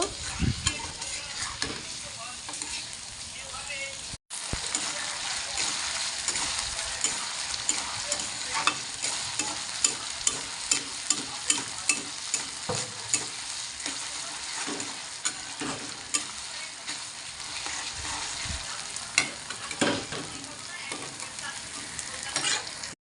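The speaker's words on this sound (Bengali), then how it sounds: "ভালো করে এগুলোকে ভেজে নেব।" Ginger, tomato and spices frying in a pan for pasta, a loud continuous sizzle with rhythmic scraping and stirring strokes of a spatula throughout, close and busy, no talking.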